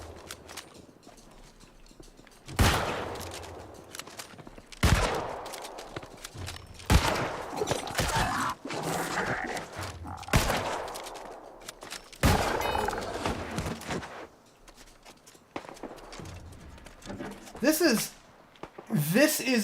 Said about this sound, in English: This is a historically accurate repeating musket